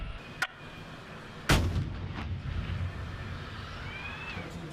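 An M109A6 Paladin self-propelled howitzer fires, a single heavy boom at mid-clip followed by a long rumbling tail over steady background noise, with a sharper crack just before it.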